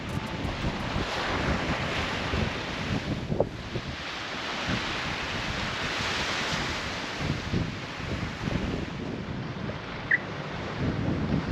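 Ocean surf rolls in continuously at Point Danger on the Great Ocean Road near Torquay, its wash blended with gusty wind buffeting the microphone and no one speaking.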